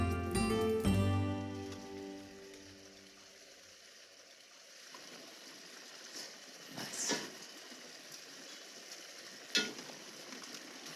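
Pasta tossed into a pan of sizzling meatball sauce gives a soft steady sizzle and frying hiss, with a few brief clatters and stirring scrapes after a short musical tone at the start.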